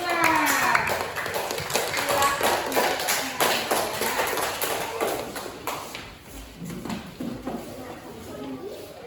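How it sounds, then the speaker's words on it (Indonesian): A classroom of pupils claps for a student group, producing a dense, steady patter of many hands. It stays loud across the whole stretch, with children's voices mixed in. "berikan tepuk tangan untuk kelompok 5"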